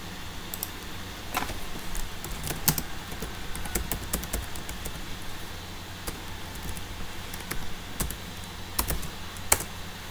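Keys clatter on a computer keyboard in irregular bursts of typing, a few sharper isolated presses standing out, fairly close and quiet with no talk.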